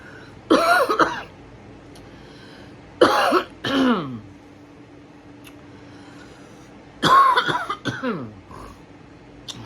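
Three separate bursts of harsh coughing, each a cluster of rough hacks with throat clearing, separated by quiet pauses.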